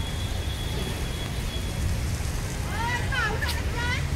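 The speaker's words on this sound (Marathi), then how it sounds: "आणि आला पाऊस बघा" Heavy rain pours down outdoors near an old Shiva temple as a steady, dense hiss, with a few brief high chirping calls rising over it near the end.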